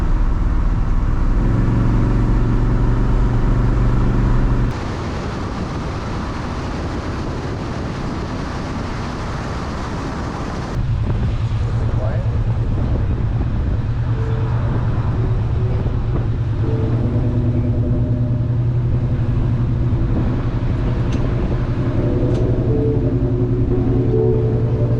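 A 1982 Chevrolet C10 squarebody pickup with a freshly swapped engine drives along, its engine droning loudly and steadily with abrupt shifts in pitch as gears change, heard from inside the truck with no talking.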